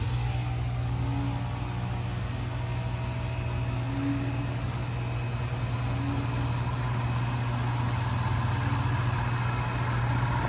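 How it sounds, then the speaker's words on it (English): Outdoor AC unit motor starting up sluggishly, heard as a steady low electrical hum with a faint higher whine that holds at one level throughout, with no voices. "That motor started very slow."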